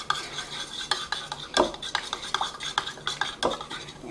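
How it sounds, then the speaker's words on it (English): A whisk stirs batter in a bowl while grape juice is added, making quick, uneven clinks and scrapes against the sides. The sound is close and fairly loud, with no speech. "Just start whisking it up while you put in the grape juice."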